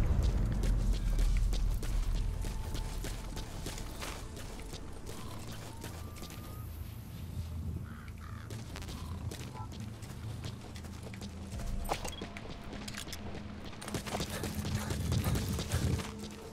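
Horse hooves clip-clop in the video game MGSV: The Phantom Pain, a continuous run of sharp, rapid knocks mixed with creaking, ratcheting gear sounds, moderately loud and close throughout.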